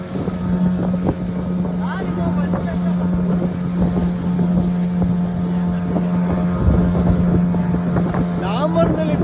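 A fishing boat's engine drones steadily at sea with a constant low hum, wind buffeting the microphone throughout and occasional faint voices underneath.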